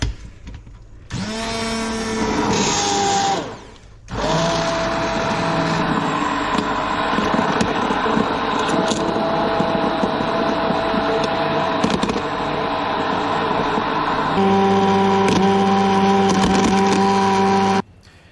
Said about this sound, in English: So it's now time to get the stick blender and blend them up.